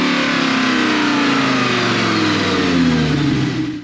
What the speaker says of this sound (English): I really want to just hear those revs pull up as I go down into sort of first gear.